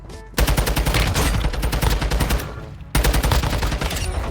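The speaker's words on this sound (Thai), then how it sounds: "เฮ้ยใครยิงเรา" Sustained rapid automatic gunfire in Warzone Mobile, loud and close, two long bursts separated by a brief pause.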